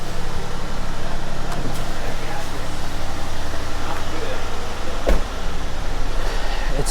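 The flooded engine of a Cadillac SRX, with water in it, runs at a steady low idle, a constant rumble close by with a few faint clicks over it.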